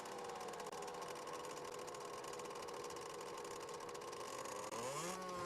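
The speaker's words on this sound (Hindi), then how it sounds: "मोटरसाइकिलों पे आया है।" Motorcycle engines idle and rumble steadily up close as several men arrive on motorcycles, a continuous mid-pitched drone that shifts near the end as one bike revs and moves.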